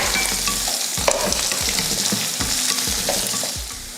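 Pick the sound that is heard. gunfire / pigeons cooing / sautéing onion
sautéing onion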